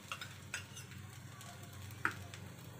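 Sabudana khichdi with rock salt and peanut powder stirred in a pan, faint scattered spoon taps and clinks over a low steady sizzle, quiet and close.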